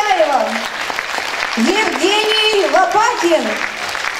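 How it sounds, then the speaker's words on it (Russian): A concert audience at an anniversary show for a folk vocal ensemble applauds continuously, heard under a presenter announcing names over amplified sound. "громче аплодисменты"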